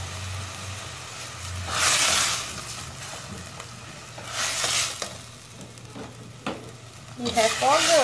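Bell pepper and sardines sautéing in oil for a mock crab pie, a steady close sizzle with bursts of stirring and clattering around two, five and seven seconds and faint voices underneath.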